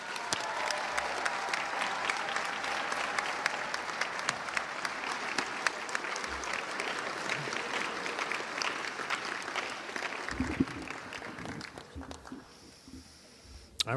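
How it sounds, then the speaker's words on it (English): Audience at a high school National Honor Society induction ceremony applauding the inductees, sustained crowd clapping that carries on for about eleven seconds before dying away, followed by brief talk and room noise. "Please give a round of applause for all our inductees."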